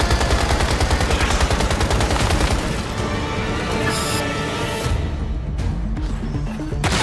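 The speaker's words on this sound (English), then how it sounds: "I'm just gonna use my shotgun for now" Shotgun fire in the video game Once Human: loud, dense, rapid blasts that keep going and then thin out near the end. No voices over the gunfire.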